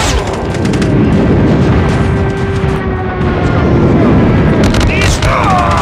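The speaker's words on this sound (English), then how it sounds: "airstrike incoming" Airstrike explosions in a Call of Duty: Mobile multiplayer match land as a run of heavy, rumbling booms and blasts. Game voice lines and other effects sound over the dense, continuous barrage.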